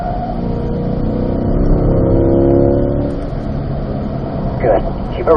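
Race car accelerating out of a turn on a driving-school course, a loud engine drone rising and holding steady, then easing off, heard beneath a person talking.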